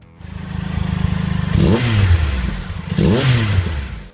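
A Triumph Trophy 900 motorcycle engine idles with a steady low rumble, then revs up sharply twice, each rising roar easing back down. Close and loud.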